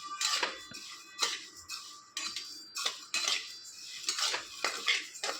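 Lentils dry-roasting for a village-style yesur masala are stirred in a pan, giving repeated scraping metal clinks and taps every half second or so, close and fairly loud, with no talk.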